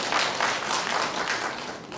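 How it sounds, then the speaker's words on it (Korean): Congregation applause in a church service, a steady, dense clapping from many hands that holds at an even level throughout. "우리 격려와 사랑의 박수 한번 해주시기 바랍니다"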